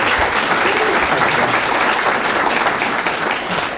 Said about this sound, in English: So how about a big hand for Bill Jarts continuing this over and over again.